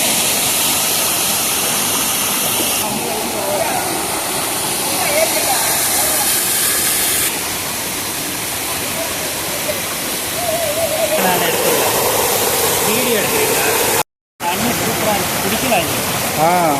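Hidden waterfall at Seethargundu in Palakkad, Kerala: a loud, steady roar of falling water fills the whole clip with constant broadband hiss, close by, with only a brief dropout near the end.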